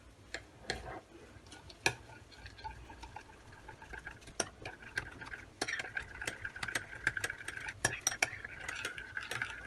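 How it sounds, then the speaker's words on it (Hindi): Three teaspoons of gelatin are stirred into plain water with a spoon in a bowl, giving close, irregular clinks and scrapes against the dish, steady taps over a faint background with barely any talk. "3-4 मिनट तक हमने मिक्स कर लिया जेलेटिन को।"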